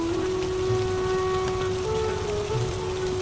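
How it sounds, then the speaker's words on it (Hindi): Steady rain falls on a surface in a constant, dense patter, with a faint tonal hum running underneath throughout. "बारिश अभी भी नहीं रुकी।"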